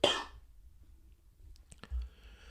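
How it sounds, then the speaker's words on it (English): A single short cough at close range in a quiet room, then near silence with a few faint clicks and soft movement. "I'm gonna cough."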